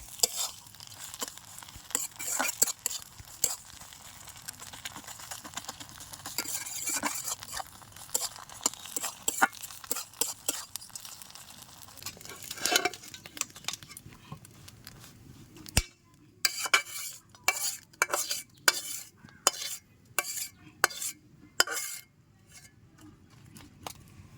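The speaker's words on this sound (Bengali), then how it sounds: "একদম মশমশা করে লাল করে ভেজে নিচ্ছি" Salted hilsa fish crisp-frying in a wok, with a quiet continuous sizzle and frequent sharp clicks and scrapes of a utensil against the pan, mostly without talk.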